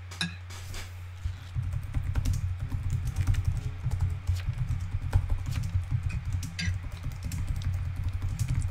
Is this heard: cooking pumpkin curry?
no